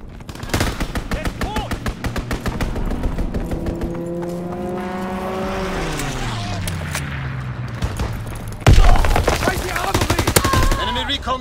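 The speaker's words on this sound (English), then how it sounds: "Strafing run inbound." An aircraft strafing run in the Call of Duty WWII game: sustained, rapid machine-gun fire roars close and loud while a plane's engine drone sweeps past. A fresh, harsher burst of gunfire erupts near the end.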